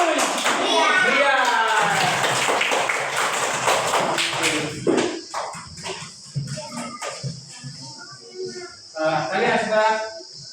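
Pupils in a classroom clap their hands in a burst of close, rapid slaps that fade into scattered taps, mixed with children's voices and excited chatter throughout.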